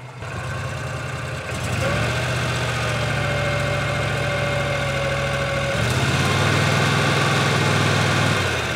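A Mahindra Retriever 750 engine runs close and loud with a steady idling drone, rising to a higher rev partway through and holding there.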